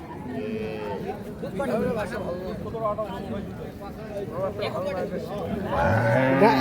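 Two-tooth Holstein Friesian cows at the Ambari cattle market, lowing amid a busy crowd, with overlapping moos under steady chatter and a louder close moo near the end.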